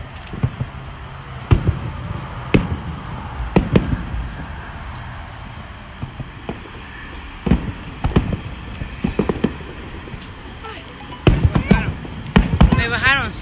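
Fourth of July fireworks pop and crack in a series of sharp bursts, some spaced apart and a louder cluster near the end, with people cheering and talking throughout.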